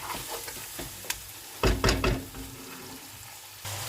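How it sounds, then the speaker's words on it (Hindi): Keema frying with spices in a pan while being stirred, soft sizzling under a few louder scraping stirs in the middle, near and alone. "तकरीबन 5 से 6 मिनट के लिए हम इसे अच्छे से भून लेंगे, ताकि ये अच्छे से मिक्स हो जाए तमाम मसाले ऐसे।"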